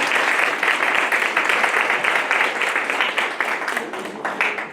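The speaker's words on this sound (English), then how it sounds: "A round of applause, please, for Josiah." A crowd applauds a campaign speaker at a college student-union election rally, the clapping steady, dense and loud for the whole stretch with no talk over it.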